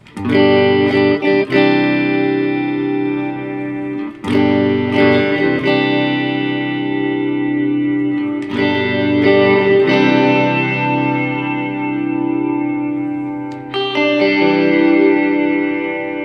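An electric guitar through a Biyang RV-10 Tri Reverb pedal with a high blend strums chords that bloom into a wash of reverb, each strike ringing out and lingering in a spacious, shimmering tail.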